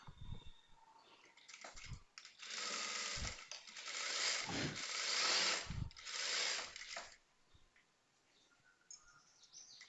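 A sewing machine stitching the side joint of a blouse runs in a steady burst of several seconds, fairly close, with short start-and-stop runs before and after.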